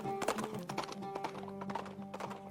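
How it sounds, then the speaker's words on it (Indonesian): A galloping horse's hooves make a quick, uneven clip-clop in a sound effect for a story of a rider spurring his horse. The hoofbeats stay close and crisp over sustained background tones. "Belum begitu jauh Suraqah memacu kudanya"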